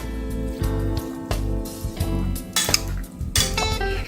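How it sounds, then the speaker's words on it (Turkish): A spoon scraping and clinking against a bowl while mixing potato salad, with repeated rhythmic strokes and a few sharper knocks, close up. "Karıştırmaya devam."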